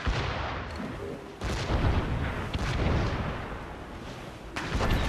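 Ship cannons boom in Assassin's Creed Rogue, several heavy, close blasts at irregular intervals, each followed by a rumbling tail, with the sound of a naval battle filling the gaps.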